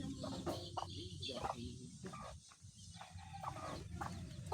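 Chickens cluck near a backyard jackfruit tree, several short clucks scattered through the stretch over steady outdoor background noise.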